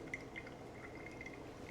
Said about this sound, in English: As this starts to drip down, there's more room on top now to pour more coffee.